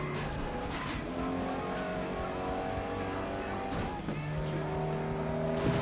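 A car spins out in the racing game FlatOut Ultimate Carnage, with tires squealing over constant engine roar and a busy mix of other race cars, loud and continuous throughout.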